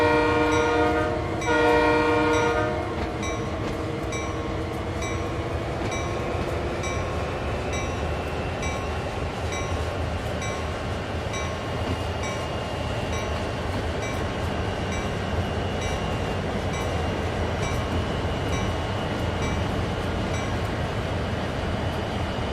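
A heavy freight train on Sherman Hill in the Train Sim World 2 game blasts its horn briefly at the start. Then comes a long, steady drone of diesel engines rumbling and wheels rolling on rails.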